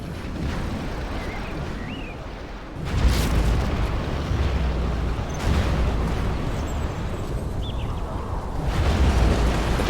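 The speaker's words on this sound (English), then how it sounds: "Arming cruise missile." A cruise missile blast in Command & Conquer Generals booms as a loud, rumbling eruption. Two heavy blasts land a few seconds apart over a constant low battle roar.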